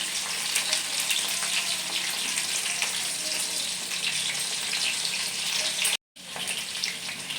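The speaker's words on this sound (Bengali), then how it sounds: "এটা অনেকটাই ভাজা হয়েছে এবার আমি এগুলোকে আস্তে আস্তে উল্টে দিই" Chicken pakoras frying in oil give a steady, close bubbling sizzle that holds at an even level, broken by a brief silent gap before it resumes.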